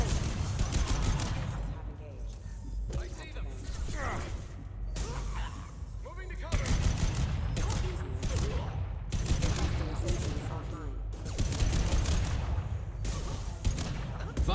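Rapid bursts of gunfire from a high-impact weapon ring out in the video game Mass Effect 2, repeated volleys mixed with game effects and some voices.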